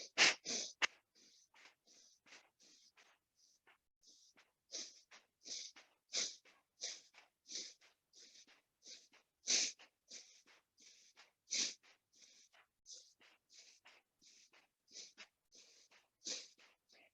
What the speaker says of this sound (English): Equal breath in and out.